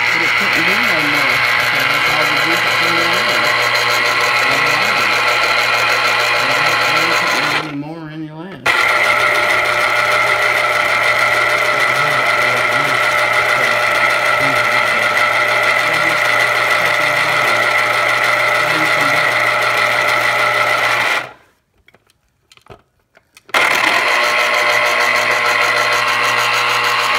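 Black and Decker juicer running with a steady, loud motor whine and hum, cutting out briefly twice before starting up again.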